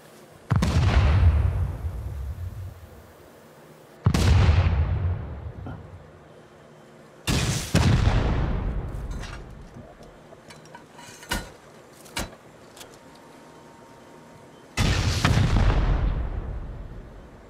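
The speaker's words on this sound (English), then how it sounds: "That's two rockets back to back and still ain't broke." Rocket explosions in the game Rust: four heavy, booming blasts with long rumbling decays, spaced several seconds apart, plus a few sharper, shorter pops between them, all loud and close.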